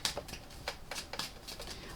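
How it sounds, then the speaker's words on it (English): A deck of tarot cards being shuffled, soft quiet riffles and flicks of card edges in an irregular rhythm, faint and close, with no talk. "So shuffle the cards, and then I'm going to pull out of the deck."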